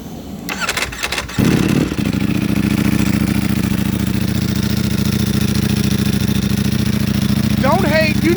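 A Ducati Panigale V4 R with a dry clutch cranks and fires up, then settles into a loud, steady, throbbing idle nearby.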